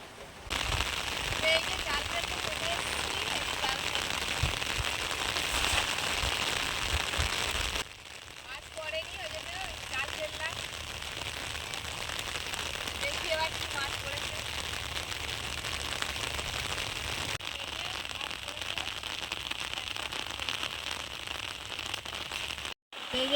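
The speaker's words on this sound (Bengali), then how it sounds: "এই যে দেখুন বৃষ্টি হচ্ছে" Steady rain hisses and patters continuously, with brief voice-like sounds faintly in the background and a short drop in level partway through.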